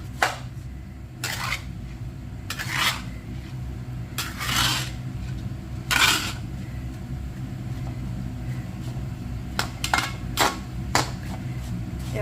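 A spatula scrapes and clanks against a pan while garlic and shallots are stir-fried, giving a series of sharp, irregular metallic strokes close by over a steady low rumble of frying.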